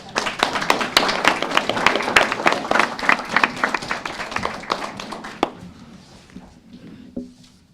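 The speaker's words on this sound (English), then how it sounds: "Let's give them a round of applause." Round of applause at a county fiscal court meeting honoring the 2017 junior colonels, a dense burst of claps that tapers off after about five seconds, leaving a few scattered claps.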